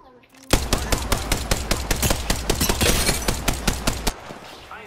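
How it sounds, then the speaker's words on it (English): Fast, evenly spaced automatic gunfire from a shooter video game, a loud sustained burst of around twenty shots lasting several seconds before cutting off abruptly. "I am taking fire, friend."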